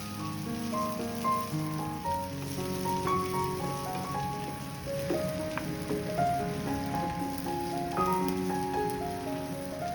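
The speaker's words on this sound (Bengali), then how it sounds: "এরপর কয়েকটি লেবু পাতা, একটি টমেটো কুচি দিয়ে বাদামি করে ভেজে নিব" Onion, garlic, lemon leaves and chopped tomato frying in oil for lemon leaf masoor dal, a continuous crackling sizzle like light rain, heard beneath steady background music.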